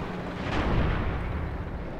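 Tank gun fire in the WWII tactical wargame Graviteam Tactics Mius Front, one heavy, broad booming blast swelling and rolling off over about two seconds, heard alone.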